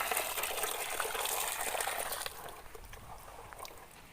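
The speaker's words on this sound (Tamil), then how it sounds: "இப்போ தான் இவ்வளோ தூரம் தண்ணி ஃபில் பண்ணிக்கலாம்." Water gushes and pours into a container being filled for washing, a bright splashing rush that softens and settles partway through into a quieter trickle.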